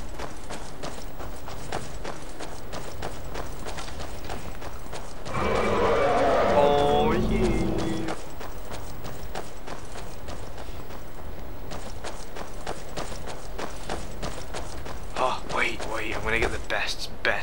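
A horse in the video game Skyrim: rapid, evenly spaced hoof clip-clops run through most of the stretch. A voice speaks briefly over them partway through, and the hoofbeats continue alone afterward.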